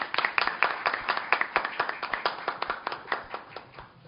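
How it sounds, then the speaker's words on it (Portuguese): A small group at an evening lecture claps steadily for a few seconds, the applause fairly faint and thinning toward the end. "peço também, já antecipadamente, aplausos pela sua participação"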